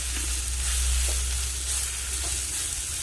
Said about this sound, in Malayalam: ഇനി നമുക്കിതെല്ലാം കൂടി വഴറ്റി കൊടുക്കാം